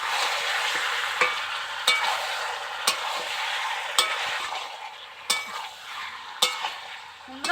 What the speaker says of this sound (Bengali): আমি ঢাকাটাকে এখন একটু খুলছি। একটু নাড়াচাড়া করে দেবো।